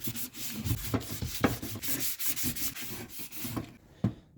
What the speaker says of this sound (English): Basically just doing a very light sanding here